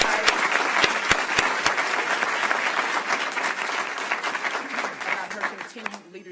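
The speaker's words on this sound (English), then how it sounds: "let's give Dr. Chapa another round of applause" Audience applause at a board meeting, loud dense clapping with crisp claps up close, tapering off gradually as a voice starts speaking at the end.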